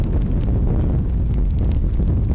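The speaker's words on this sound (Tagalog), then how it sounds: "Malakas ang hangin sa kinaroroonan nyo ngayon Dennis?" Strong typhoon wind buffets an outdoor microphone in Oriental Mindoro, a loud, continuous low roar of gusts with heavy rumble and no break.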